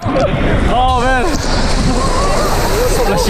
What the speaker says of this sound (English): Splashing us with water.